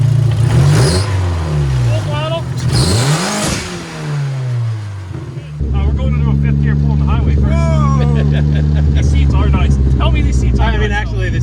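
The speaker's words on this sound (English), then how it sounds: "Hit the gas. Full throttle." A Dodge Neon SRT-4, bought from a salvage auction and heavily modified, revs hard at full throttle, its loud engine note climbing and falling in sweeping surges before holding a steady roar, with people talking over it.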